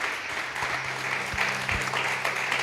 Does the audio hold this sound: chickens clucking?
no